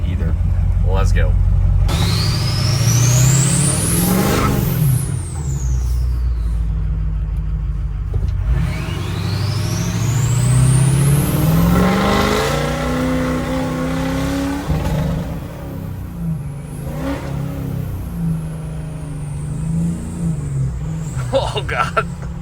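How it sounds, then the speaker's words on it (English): A 6.0-liter show truck engine revs hard and accelerates, its pitch sweeping up and dropping as the 5R transmission shifts between gears, loud and close, with a voice speaking over parts of it. "that transmission did not want to shift, but that's all right. It's a 6 liter, it's a 5R."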